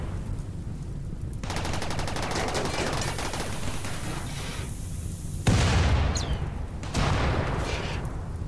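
Gunfire during a base battle against mechanoids in the video game RimWorld, a long dense rattle of rapid shots with sudden louder bursts near the end, close and continuous.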